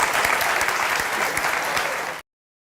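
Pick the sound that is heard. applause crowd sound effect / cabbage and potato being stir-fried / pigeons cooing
applause crowd sound effect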